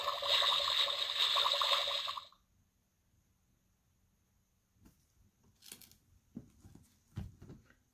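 A water splash effect from a Disney play-a-sound book with Finding Nemo ocean scenes: a loud, bright burst of splashing for about two seconds, then near silence with a few faint clicks and taps.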